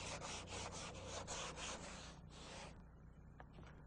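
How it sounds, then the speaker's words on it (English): An 80 grit sandpaper on a sanding block is worked by hand over auto body filler, a loud close rhythm of rasping back-and-forth strokes that slows, pauses and fades near the end. "still with 80 grit sandpaper, but using a sanding block"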